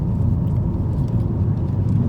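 A car overtaking on the Havza–Bafra highway in Turkey, heard from inside as a loud, steady low road and engine rumble with tire roar.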